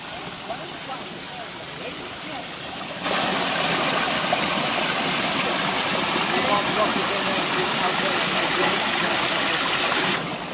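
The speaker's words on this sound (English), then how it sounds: "The waterfall is literally across the way" Waterfall on La Garganta del Capitan trail in Cádiz, a quiet rush that suddenly swells into a loud, steady roar of falling water, filling the air for several seconds before dropping back.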